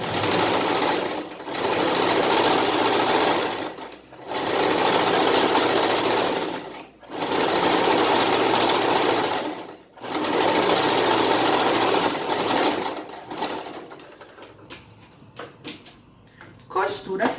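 A sewing machine stitches fabric for a handmade Tilda dog toy in four steady close-up runs of rapid whirring, each separated by a short pause, ending with quieter handling and clicks as the seam is finished.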